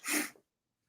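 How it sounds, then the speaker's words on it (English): A single short, sharp sneeze bursts out close by, then silence follows. "I was about to sneeze"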